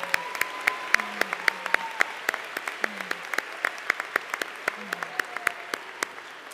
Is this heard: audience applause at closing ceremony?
yes